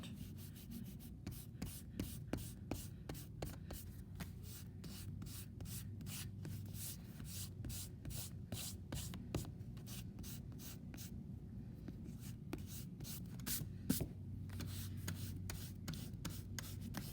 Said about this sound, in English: I've got my vinyl eraser out too. Give it a good erasing.